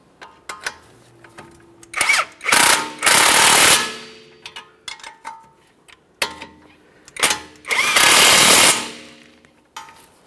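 Power tool, likely an impact wrench, tightening front strut mounting nuts on a 2015–2019 Subaru Outback, firing in loud, harsh hammering bursts of about a second each, separated by clicks and short quiet gaps, with no talk.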